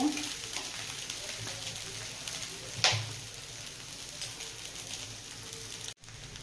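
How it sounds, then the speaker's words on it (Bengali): Chowmein noodles fry in a hot pan with a steady close sizzle and crackle, a brief sharp clatter near the middle, then a short dropout near the end. "চাউমিনটা দিয়ে একটু ভেজে নিয়েছি"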